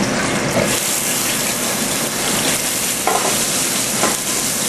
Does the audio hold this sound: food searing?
yes